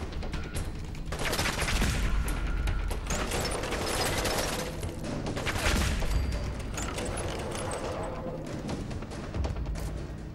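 Sustained gunfire from the player's weapon in Fallout 4, loud and continuous bursts with mechanical clatter over about ten seconds, no talking.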